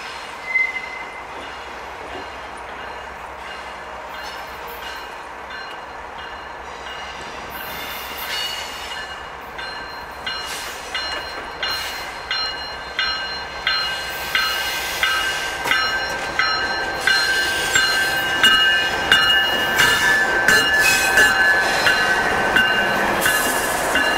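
CSX freight train rolling through a switch at the Hagerstown railyard, a steady rumble with rhythmic wheel clicks that grow louder and faster, plus high metallic squeals from the wheels, nearby and without voices.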